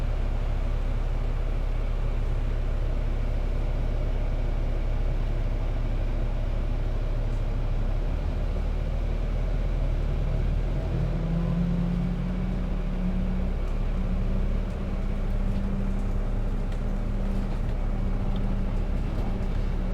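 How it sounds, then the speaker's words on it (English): A noisy bus engine in London drones from the back seat, a steady low rumble with a tonal hum that climbs in pitch partway through, constant and close. "Bus is a little bit noisy today."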